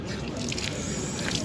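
Cold water running steadily from a mosque ablution fountain in Istanbul, a continuous close splashing trickle with no break.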